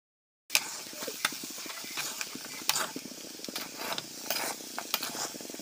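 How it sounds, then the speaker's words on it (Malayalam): Jackfruit seeds frying in hot oil, tossed as a mezhukkupuratti stir-fry, give a steady close sizzle broken by repeated scraping stirs of a spoon against the pan, with no talk. "അപ്പം ചക്കക്കുരു ഇനി എണ്ണയ്ക്കകത്തിട്ട് മിക്സ് ചെയ്ത് മെഴുക്കുരട്ടിയാക്കി എടുക്കാം."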